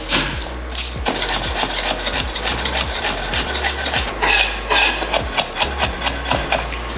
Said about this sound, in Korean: 마늘 같은 경우는 5알을 이렇게 쪼개서